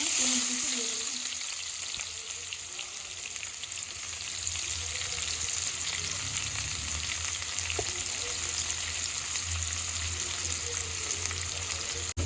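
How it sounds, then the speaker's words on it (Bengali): Onions fry in hot oil with bay leaf, dried chilli, cinnamon and sugar for a Bengali mutton kosha, a steady broadband sizzle with occasional stirring scrapes, close and continuous without talk. "পেঁয়াজটা যতক্ষণ না হালকা ব্রাউন কালার আসছে ততক্ষণ পর্যন্ত এইভাবে নেড়ে চেড়ে ভেজে নেবে পেঁয়াজ"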